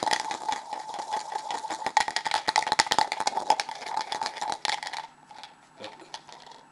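A 2p coin spins and rattles inside a cup, giving a fast, continuous metallic whirr that speeds into dense chattering and then winds down and stops after about five seconds.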